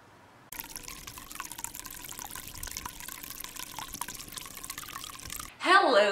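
Wine is poured heavily into a glass in a steady liquid stream lasting about five seconds. A voice follows at the end.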